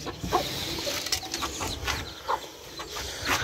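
Pigeons being fed grain: scattered bird calls and soft clucking sounds at moderate distance over a constant background hum, with occasional faint mechanical clicks.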